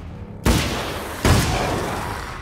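Two heavy gunshots from the video game Alan Wake's American Nightmare, each a sudden loud blast with a long ringing decay, the second following under a second after the first, with no voices.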